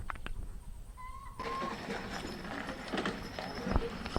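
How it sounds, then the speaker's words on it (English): Horses pulling a wagon on a farm, hooves clip-clopping steadily at a moderate distance, with a faint rattle and background noise throughout. "the horses are moving, the wagon is moving"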